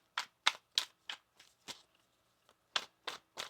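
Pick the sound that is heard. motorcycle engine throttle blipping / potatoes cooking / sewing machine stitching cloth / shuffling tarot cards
shuffling tarot cards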